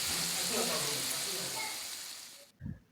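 Steady broadband sizzle of potato French fries frying in hot oil, close and continuous, fading slightly before cutting off, followed by a brief low clatter.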